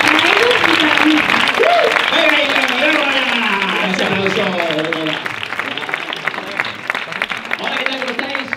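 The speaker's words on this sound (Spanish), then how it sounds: "un fuerte aplauso para la compañía teatral de improvisación Improimpar" Audience applause for an improv theatre company at a science-themed improv show, a steady clapping crowd heard under a voice speaking loudly over it, the clapping becoming sparser toward the end.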